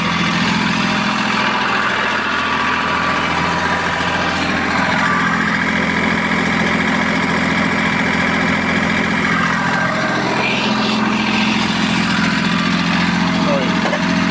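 A Mitsubishi MT205 mini tractor's engine runs loud and close with a constant low drone. Partway through, a rising then falling whine is heard as the revs are raised, and a voice talks over it.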